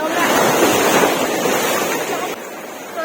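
Sea waves wash onto a beach in Goa, heard as a loud, rushing broadband roar with wind buffeting the microphone, easing slightly toward the end.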